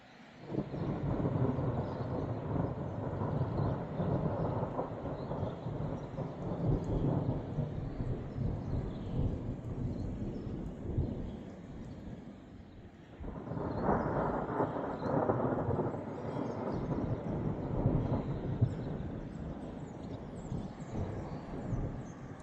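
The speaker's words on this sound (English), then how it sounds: "we had a bit of a thunderstorm come through" Deep, rolling thunder rumbles through steady rain on a New Zealand farm, swelling in two long waves with a brief lull between them; the storm brought small hail.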